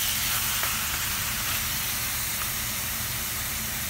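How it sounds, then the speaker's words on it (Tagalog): Pork ribs fry in a pan for adobo, giving a steady close, dense sizzle and hiss throughout with no break. "papabayaan ko lang siyang maprito-prito ng konti"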